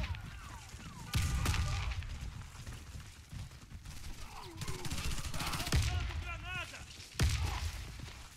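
In a Warface match, rapid gunfire bursts and grenade blasts crack through the action, sharp repeated impacts at moderate level under a player's excited commentary.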